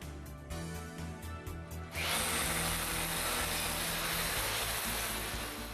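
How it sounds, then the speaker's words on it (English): A power drill with a 5/16 inch masonry bit whirs with a rhythmic ratcheting hammer, then bites in and grinds loudly and steadily through hard fire brick, close up. "We drill the 4 holes using a 5/16 inch masonry drill."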